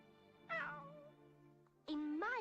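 A cat gives two meows, the first drawn out and falling, the second rising after a short pause, over a faint steady musical hum.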